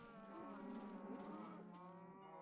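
Cows in the Minecraft video game (PS3 Edition) moo in a steady, overlapping run of low, drawn-out calls, close and loud, with no talk over them.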